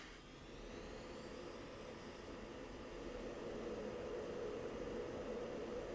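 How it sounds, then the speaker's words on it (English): Jet aircraft taxiing in the Falcon BMS flight simulator game, a steady broadband engine roar with a faint whine that swells slightly louder midway and holds continuously, with no talk. "Taxiing like crazy over there."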